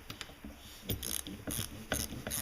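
Ratchet tightening the big bolts on a brake caliper during a Land Rover Series disc brake conversion, rapid clicking pawl strokes in several quick bursts, close and fairly quiet.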